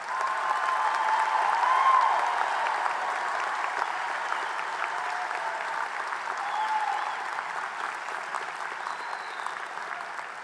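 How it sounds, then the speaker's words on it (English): A graduation ceremony audience at the University of Southern Indiana College of Nursing and Health Professions gives sustained applause, a dense steady wash of many hands clapping that swells early, then holds evenly throughout. "Let's give them another round of applause"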